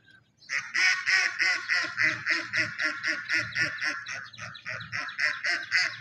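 Hungry ducks quacking loudly and repeatedly in a fast, rhythmic series of harsh calls, close by.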